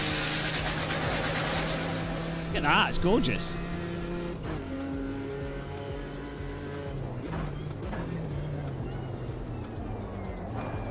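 Race car engine in the sim racing game Automobilista 2, a steady droning tone held through the lap with a brief tire squeal, while someone talks over it.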